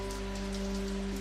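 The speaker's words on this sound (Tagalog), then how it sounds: "Sa labas patuloy ang ulan," Rain falls steadily outside at night, a soft even patter over a constant low electrical hum from a power line.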